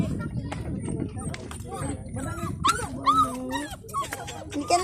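A dog whimpers and yips in short, high whines while people talk nearby.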